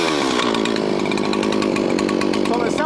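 A chainsaw runs steadily and loud at close range while cutting a woodpile, its high engine whine continuous, with a voice talking over it.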